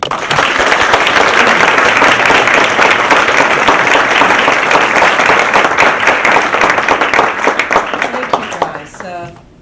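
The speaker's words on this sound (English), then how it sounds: "Please join me in a round of applause." Dense, sustained applause from a lecture audience at the 2016 Cardinal Newman Lecture fills the room, loud and even, for several seconds before tapering off and ending near the close.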